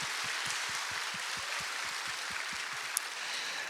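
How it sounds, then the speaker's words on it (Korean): A church congregation applauds a guest lecturing pastor, a soft, steady wash of clapping with a faint regular low thudding beneath it, heard at a distance. "다시 한번 감사의 마음을 담아 박수하겠습니다"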